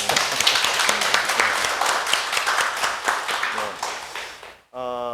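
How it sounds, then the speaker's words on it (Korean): An audience at a Korean talk show about natural healing claps for a few seconds, a lively patter of many hands that tapers off, then breaks into a brief pause before a voice begins talking. "박수 한번 주시죠"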